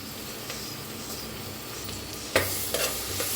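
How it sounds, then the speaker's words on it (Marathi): Cumin, ginger and green chili paste fry in hot butter in a pan, giving a steady close sizzle, with a few louder spoon-stirring scrapes toward the end. "त्याच्यात टाकूया जिरा 1 चमचा, तून अद्रक, हिरवी मिरचीची पेस्ट."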